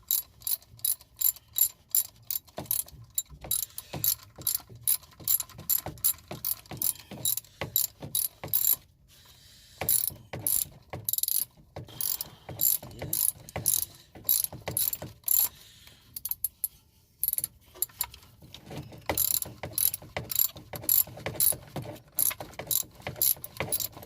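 Ratchet clicking in rapid bursts while three bolts on a power steering pump are tightened, with short pauses between strokes; the clatter is close, loud and steady, with no talking.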